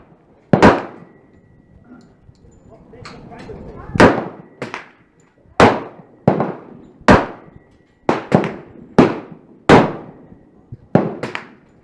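Sharp, loud shots from a Glock 30 pistol fitted with a 10mm conversion barrel, fired one at a time in an uneven series of about ten reports, with short gaps and a pause after the first shot.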